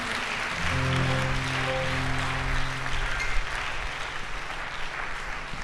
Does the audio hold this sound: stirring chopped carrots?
no